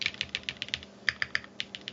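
Quick keystrokes ring out on a Think 6.5 V2 mechanical keyboard built with a flexy half plate, a rapid run of about a dozen crisp clacks, close and fairly quiet, with no voices.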